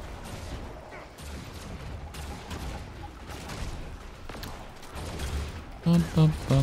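Gunfire from shooting in the online game Guild Wars 2, a dense run of sustained shots and combat noise mixed with speech, ending in a few louder, sharper bursts.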